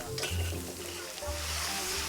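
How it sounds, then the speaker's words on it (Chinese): Seafood such as squid, sea snails and geoduck is stir-fried with aromatics in oil in a hot wok, making a loud, dense, continuous sizzle with stirring scrapes over a low burner rumble. "再翻炒海鲜"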